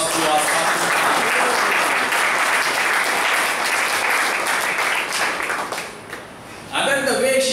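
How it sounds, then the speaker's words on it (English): Audience at a meeting breaks into steady, full applause that carries on for several seconds, dips briefly, then swells again as a voice starts up. "So give a big round of applause to our participants."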